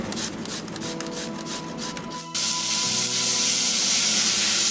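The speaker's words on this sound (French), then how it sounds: "Je fais revenir l'oignon et le potimarron que je vais ajouter au quinoa." Onion and grated red kuri squash frying in a pan, a steady broadband hiss that jumps louder midway as the vegetables hit or settle into the hot fat, sizzling continuously to the end.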